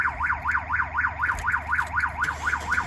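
A car alarm wails in a fast, regular up-and-down sweep, loud and close, repeating without pause throughout.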